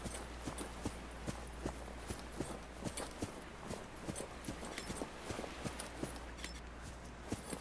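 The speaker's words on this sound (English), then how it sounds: "Look at that munching sound." Character munching food in the video game Subnautica: faint, regular crunching chews in a steady rhythm over a low hum.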